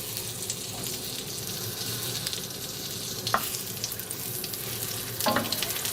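Figs sizzle gently in a pan over moderate heat, a close, continuous frying crackle with a couple of brief clinks from a utensil.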